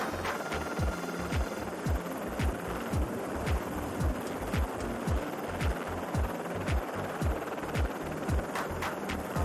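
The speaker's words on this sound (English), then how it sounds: "This helicopter got a super nice landing onto the ship" A helicopter lands onto a ship, its rotor giving a steady, rapid throbbing beat over a constant engine hum, loud and continuous throughout.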